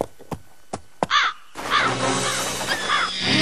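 A cartoon crow caws in a series of harsh calls, first a few sharp clicks and thuds, then repeated loud nearby caws over a busy background.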